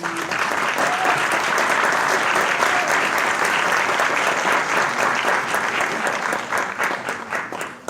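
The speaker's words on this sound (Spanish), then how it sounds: "Una cordial bienvenida, como también un gran aplauso" An audience at a university lecture on press law breaks into sustained, loud applause to welcome a speaker, a thick wash of many hands clapping continuously, fading slightly at the end.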